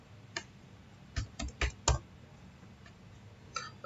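Password typed on a computer keyboard during a MySQL setup on Windows 10: a few separate key clicks, then a quick burst of four or five taps and one more click near the end, all close and quiet with no talking.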